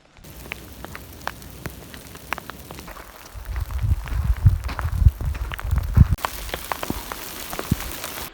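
Rain mixed with graupel falls on a Colorado Trail hiking path, a steady patter of scattered sharp ticks that thickens into heavier, denser drumming midway before thinning out again, close and with no voices.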